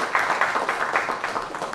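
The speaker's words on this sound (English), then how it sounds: "Can I hear a little bit of more applause?" Audience applause at a panel discussion, a steady patter of many hands clapping for under two seconds, moderately loud and with no talking.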